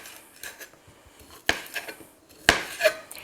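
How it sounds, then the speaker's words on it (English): A knife chops through kielbasa into rounds on a cutting board, a few sharp close thunks with softer taps between, clean and isolated. "So I just cut them in rounds."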